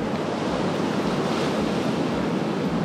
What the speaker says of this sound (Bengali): আর সমুদ্রের যে আওয়াজ, মানে সাউন্ডটা এত জোস লাগতেছে।